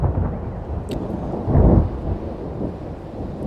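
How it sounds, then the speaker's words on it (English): Thunder on a stormy night rolls in a deep, loud rumble that swells in the middle, over a steady hiss of rain with no voices. "It's a stormy night."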